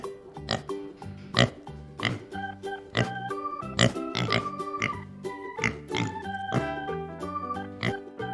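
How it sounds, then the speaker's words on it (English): Farm pig oinking and grunting in a steady series of short, close snorts spaced about half a second apart, over a faint tonal backdrop. "Pig. It gives meat."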